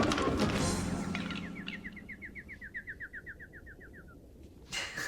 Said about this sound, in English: they put the bird noises in